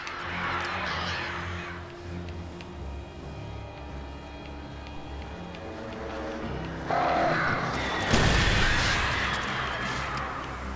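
Crows caw in the Alan Wake Remastered video game, a scatter of harsh calls over a dark, droning ambience, followed by a louder burst of noise and flapping near the end.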